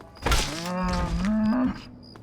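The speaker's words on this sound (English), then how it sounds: "It's a cow." A cow in Fallout 3 gives one drawn-out, close, loud moo lasting over a second, ending abruptly with no talk over it.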